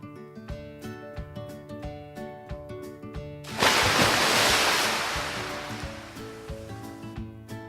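Ocean waves at Camps Bay beach in Cape Town: a loud surf wash swells up partway through and slowly fades, with a steady background of music throughout.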